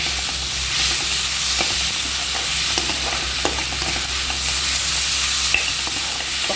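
Masoor dal mixed with salt sizzles in a pan, a steady loud frying hiss throughout with faint occasional scrapes from a stirring spoon, close up and without any talking.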